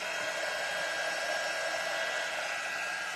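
A dryer blows a steady, even stream of air while it dries a wet craft piece for a standing frog on a mushroom, close and continuous with no talking.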